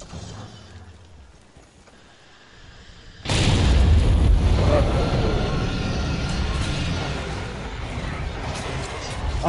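A sudden loud bomb blast in the monster-hunting game Monster Hunter World: Iceborne erupts after a quieter stretch, then rolls on as a heavy rumbling roar with crackling debris under game noise.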